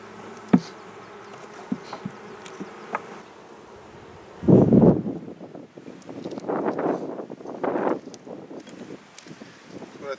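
Honey bees buzz around an opened beehive during an inspection, a steady insect drone with louder close swells as bees pass near, plus a few faint handling knocks and some wind noise.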